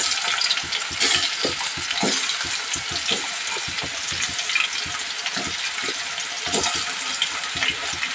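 Mutton keema fries in a pan with a loud, steady hiss of sizzling, while scattered scrapes and clinks from stirring break through close by.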